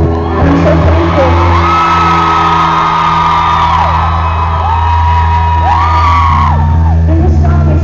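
At a rock concert, the crowd screams, whoops and shouts loudly and continuously, with sustained tones and a voice mixed in.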